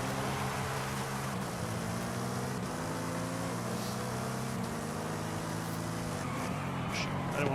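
Race car engine in the open-world racing game Forza Horizon 5, holding a loud, steady droning note with layered harmonics throughout, shifting slightly in pitch as the car races.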